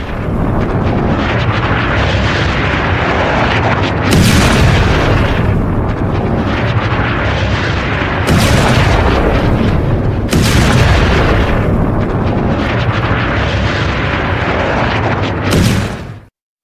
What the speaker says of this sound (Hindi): ये एक और हमला है, इजरायली हमला जो हिजबुल्लाह के ठिकाने पर।